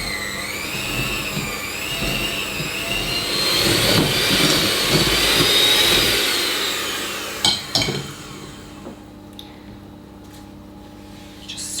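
An electric mixer creams butter and sugar for a lemon drizzle bundt cake. A loud, close whirring drone swells and wavers in pitch, then cuts off with a few clunks before a quiet stretch.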